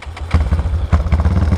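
A Today motorcycle with a 371cc engine idling while cold, loud and close, with uneven sputtering pulses and a rough, stumbling rhythm.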